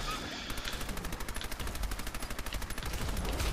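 A Thompson submachine gun fires in Fallout 4, letting out a rapid, evenly spaced string of shots that keeps a steady automatic rhythm for about three seconds.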